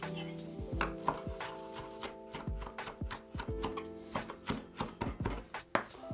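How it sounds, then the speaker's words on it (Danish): A knife finely chopping garlic on a cutting board, with quick irregular taps that come in uneven bursts, close and clear with no talking. "Hak det fint."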